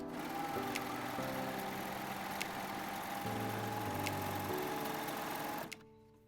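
A serger running a steady 4-thread seam down a fabric edge, sewing piping with cording fed through a cording foot. The motor hums evenly with a rapid mechanical chatter, close and continuous, then stops abruptly near the end.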